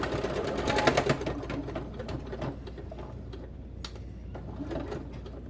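A sewing machine stitches along the D rings of a farmhouse-style journal, giving a continuous close mechanical whirr with faint ticking and rattling for several seconds, with no voices.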